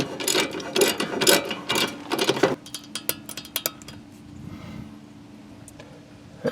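A hand ratchet torques steering parts down on a Honda Civic, sharp clicking bursts up close at first, then sparser, quieter clicks and light metallic handling.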